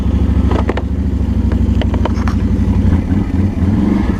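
A four-wheeler's engine drones loud and close with a steady throbbing pulse as it drives over rough ground, a few faint knocks rising over the continuous motor.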